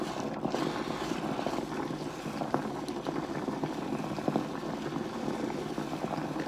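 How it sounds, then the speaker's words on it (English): Water boils and bubbles steadily inside a Temu garment steamer, a loud, continuous churning hiss with small pops, close by and without talk. "It's like it is actually boiling in there."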